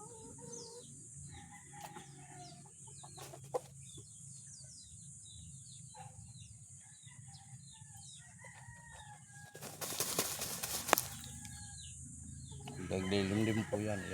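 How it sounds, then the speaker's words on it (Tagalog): Native chickens cluck softly and intermittently while dust bathing in soil after feeding, with scattered close clucks and chirps over a low background, and a burst of flapping or rustling near the end. "Pagkatapos nila kumain yung ating mga lagang manok, ayan po, ito naglilimlim po yan,"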